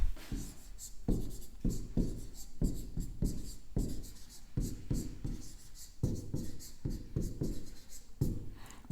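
Chalk or marker writes on a board in repeated short scratchy strokes, a fast irregular rhythm of taps and scrapes, close and moderately loud.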